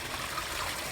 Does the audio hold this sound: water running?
yes